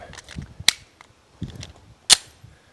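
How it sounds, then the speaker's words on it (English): Pistol rounds loaded into a Staccato CS pistol magazine give sharp metallic clicks, two especially crisp snaps among softer handling rattles, close and isolated with no speech. "let's load this thing up"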